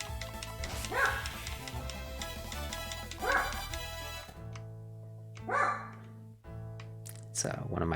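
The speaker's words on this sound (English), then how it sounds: "It's one of my dogs barking." Several sharp barks from a dog ring out in bursts at a moderate distance, spaced a couple of seconds apart over steady background game music.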